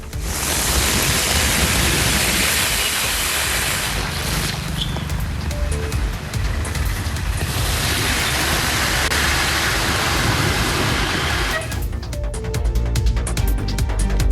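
Heavy rain pours steadily in Cuddalore at night, a loud, dense, continuous hiss of water with no breaks, heard alone without voices.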